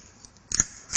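A pepper mill grinds pepper over a fish carpaccio in short, crisp crunching bursts, quiet and close, with two brief grinds near the end of a near-silent second.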